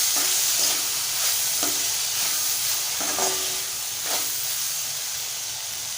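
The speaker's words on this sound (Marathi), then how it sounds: "परतून घेऊया।" Okra and tomato sizzle in a hot pan, a constant bright frying hiss with several soft scraping stirs at roughly one-second intervals, fairly close and with nobody speaking.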